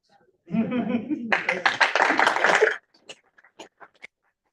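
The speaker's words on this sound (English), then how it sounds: "We're already clapping." Brief clapping breaks out in a senate meeting room after a candidate is ratified, a short burst of several hands following some talk and fading into scattered claps.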